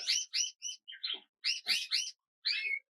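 A dark Border canary cock gives a string of bright, high chirps in short clustered bursts with brief gaps, close and clear with no talking.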